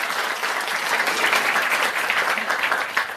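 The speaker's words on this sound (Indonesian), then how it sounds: "Aplaus buat One Vision." A seminar audience at a Tiens business event in Jogja breaks into a burst of applause, dense and sustained clapping from many hands filling the room for a few seconds.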